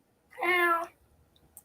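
A single drawn-out cat meow, clear and fairly loud, rising out of near silence and fading to quiet afterward, likely from a video playing nearby.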